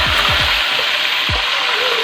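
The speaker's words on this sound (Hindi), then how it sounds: "हमने एक कढ़ाई ली है, उसमें ऑयल डाला अपनी ज़रूरत के मुताबिक। अब इसमें हम प्याज और टमाटर का पेस्ट डाल देंगे।" Onion and tomato paste sizzling in hot oil in a kadai, a steady close hiss of frying with a few short low knocks of stirring at the start.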